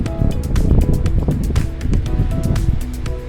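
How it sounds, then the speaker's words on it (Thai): Cool wind gusts across an open campsite with tents pitched in Pak Chong, heard as a loud, rough rumble and buffeting on the microphone, with scattered sharp ticks and knocks on top and no talking. "ตอนนี้ลมเริ่มมาแล้วครับลมเริ่มเย็นละ"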